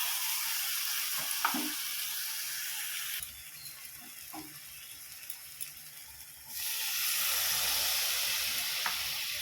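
Soft tomato and ground masala fry in a pan with a strong, steady sizzling hiss, close and loud, dipping for a few seconds midway before rising again, with a few faint stirring knocks.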